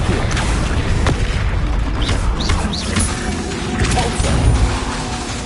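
Fiery Confringo spell blasts in a Hogwarts game fight, heavy booming impacts and crashes repeating amid whooshes and clattering combat effects, loud and continuous throughout.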